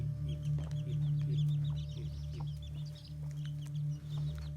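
Chickens cluck and chirp in a Konkan village yard at morning feeding time, with banana-leaf crumbs scattered for them. The repeated short calls sit over a steady low hum.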